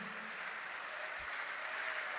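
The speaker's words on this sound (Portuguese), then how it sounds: "Vamos aplaudir a Jesus por isso." Congregation applause for Jesus during a church sermon, a soft, distant, even patter of clapping held steady throughout, with a brief low murmur partway.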